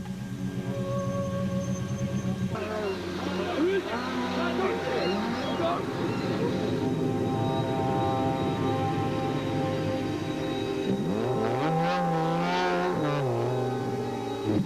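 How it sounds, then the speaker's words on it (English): A BP Ultimate VW Polo rally car competing in the 2009 Tour Natal rally arrives on the road, its engine note rising and swelling near the end while people talk over it. "And 2 minutes later, the third BP Ultimate Polo, Fecken, also arrived."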